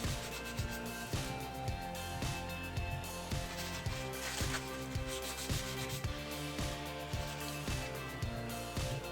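Rhythmic rubbing strokes of a cloth wiping excess grease off an Umarex Ruger MK4 air pistol barrel, repeated quick scrapes at close range with no talking.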